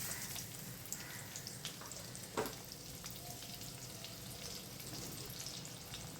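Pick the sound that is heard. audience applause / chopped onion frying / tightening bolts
chopped onion frying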